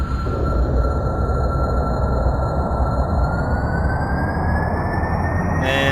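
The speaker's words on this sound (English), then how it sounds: "Throttle to maximum. SAS on. Jet engine start in 3," A jet engine starts up in the video game Kerbal Space Program: a steady, loud roar with a thin whine that slowly climbs in pitch, and a short burst of noise near the end.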